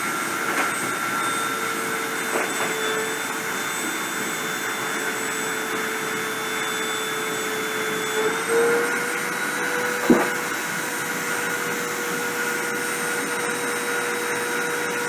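Deposition machine spindle running steadily, a constant whirring motor drone with high whine tones, with a brief sharp click partway through and no speech.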